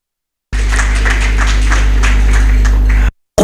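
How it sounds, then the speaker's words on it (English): Warm applause for the CEO at a youth strategic plan launch event, a dense steady clapping from a crowd lasting about two and a half seconds, loud, with a low hum underneath, cutting off abruptly. "a warm round of applause to our CEO"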